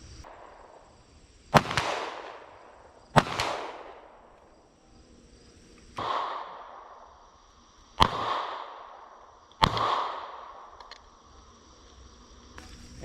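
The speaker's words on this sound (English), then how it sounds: "So now we're going to shoot a 9mm out of a Glock 43X" Five sharp 9mm pistol shots from a Glock 43X fired outdoors without hearing protection, spaced a second or two apart, each a loud crack followed by a ringing decay.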